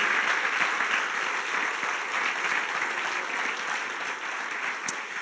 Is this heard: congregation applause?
yes